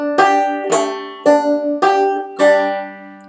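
Five bright plucked notes on guitar play a Bugle Call measure with a pull-off. Each note rings briefly before the next comes in a steady, unhurried rhythm, close and clear with no voice.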